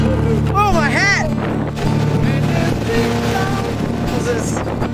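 Loud gusting wind buffets the microphone with a constant roar on the Edisto River, while people talk and exclaim over it.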